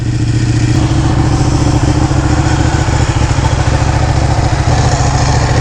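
A Ducati Panigale 1199 sportbike engine running close up, a loud, dense, continuous rumbling throb with fast rhythmic pulsing that holds steady the whole time, no voices.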